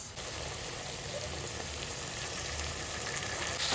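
Onions frying steadily in a pan, roughly sixty percent done, giving a continuous close sizzle and crackle with no talk over it.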